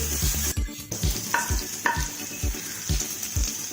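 Prawns roast for a Kerala-style dish is sautéed over a low flame, a gentle sizzle under brisk, regular spoon strokes against the pan, roughly two or three per second.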